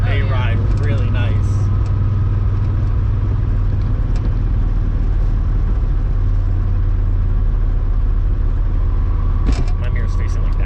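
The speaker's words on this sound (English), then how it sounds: "We're driving the Savoy." A VR5 Savoy car fitted with coilover suspension drives along the road. A loud, steady low rumble of engine and road noise fills the cabin from start to finish, with a brief knock near the end.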